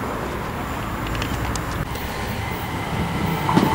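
A British Rail Class 357 electric train passing Benfleet station, a steady close rumble and rush of wheels on rails with faint clicks and a slight rise in loudness toward the end.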